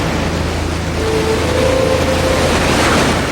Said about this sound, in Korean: 페이의 파도에 70척 이상의 배가 침몰했습니다.